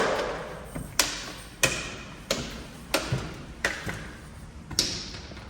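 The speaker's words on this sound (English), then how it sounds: "hold my cane a little up in the air so I could knock each step" A blind person's white cane knocks on each step while climbing a staircase, giving about eight crisp, fairly loud taps at a steady walking rhythm, each a sharp click with a short ring, no talking.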